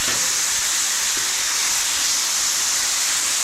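Chicken breasts sizzle on a griddle top, a loud, steady hiss close up that holds unbroken with no voices over it.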